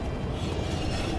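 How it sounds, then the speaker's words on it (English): A dense, rough grinding rumble, continuous and close, of trailer brake shoes rubbing against a drum as the hub turns. "That grinding noise you're hearing are our brake shoes rubbing against our drum."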